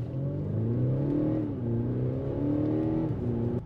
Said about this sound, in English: having that throttle response and also having the fake engine noise, I'm not mad about. I like the engine noise.